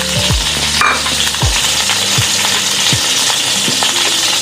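Chopped green chillies fry in oil in a kadhai with a close, continuous sizzle and crackle. A utensil clinks against the pan several times as they are stirred.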